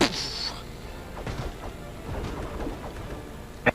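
Thunder from a lightning strike in the video game Castle Crashers rumbles with rain-like crackle, a low rolling burst that fades through the clip, with a voice briefly heard.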